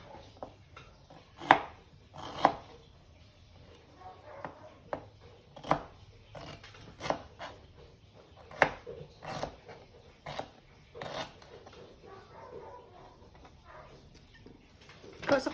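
Onion chopped on a board while cooking Filipino linat-an pork soup, giving irregular sharp knife knocks, several loud and close, with quieter cutting between them and faint household sounds around.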